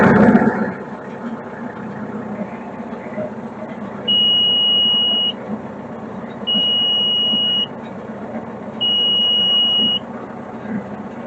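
A Bobcat skid-steer loader, a 753 or S130, starts with a brief loud crank, then settles to a low idle while its warning buzzer sounds three steady, evenly spaced beeps over the engine.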